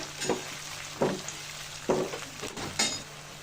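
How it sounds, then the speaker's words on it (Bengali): Raw onion paste fries in oil for a whole chicken roast, giving a steady sizzle. Four evenly spaced scraping stirs of a spatula cut through the sizzle, close by and moderately loud. "কাঁচা পেঁয়াজটা ভালো করে ভেজে নিব"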